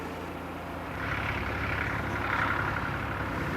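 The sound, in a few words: tractor engine running on an abbey farm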